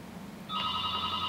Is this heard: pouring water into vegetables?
no